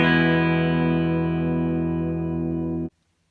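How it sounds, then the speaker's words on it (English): A clean-toned electric guitar rings a single sustained open E, picked with a small purple plectrum, decaying slowly for about three seconds before being cut off abruptly. "we're just going to give you guys some clean tones first"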